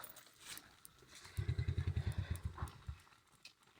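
A motorcycle engine putters in a rapid, pulsing burst of low thumps for about a second and a half, fairly faint against a quiet background.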